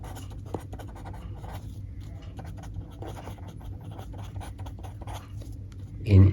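A pen scratching out a maths equation by hand in a classroom-style lesson, making faint, intermittent scraping strokes over a quiet background.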